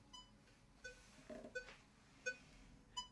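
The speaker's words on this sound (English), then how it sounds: "you can play a metronome" Faint, evenly spaced metronome clicks play through a Nova Go SP1 guitar, soft beeping ticks roughly every three-quarters of a second over low background hiss.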